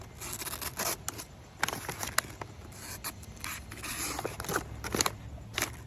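A Milwaukee duct knife cuts through material in a series of close, sharp slicing and scraping strokes, irregular and fairly crisp, with brief rustles between cuts and no speech.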